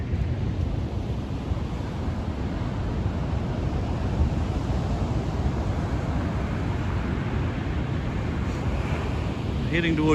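Surf breaking on a West Coast New Zealand beach beside a camping ground, a steady broadband roar of waves with wind buffeting the microphone, continuous and fairly loud throughout.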